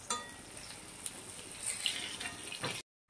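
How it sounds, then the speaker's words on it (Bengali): Eggplant frying in a pan, a steady hiss of sizzling oil with a few brief spikes, fairly faint, ending abruptly in silence. "করে বেগুন ভাজি হচ্ছে"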